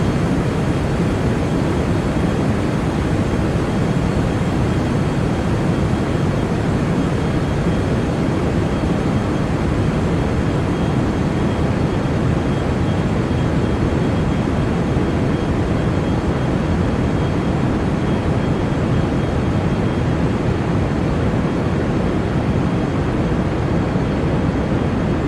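Steady, loud rocket engine roar from Kerbal Space Program, a continuous broadband rushing thrust that holds unbroken and even throughout.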